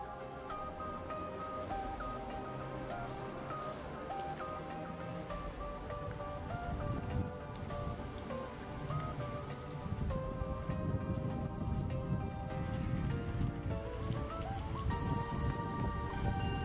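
Steady rain falls in the suburbs of Saint Petersburg, a dense, even patter that stays constant throughout with a faint tonal background layered underneath and no voices.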